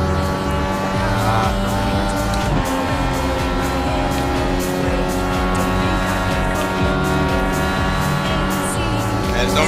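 Race car engine running steadily at high revs while driving an oval in the iRacing sim, a loud continuous drone with harmonic whine throughout.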